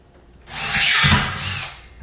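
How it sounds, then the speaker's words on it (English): A power drill fitted with a step drill bit whirs up and grinds steadily through material for a second or so, loud and close, then winds down. "I call this, it's a step drill bit,"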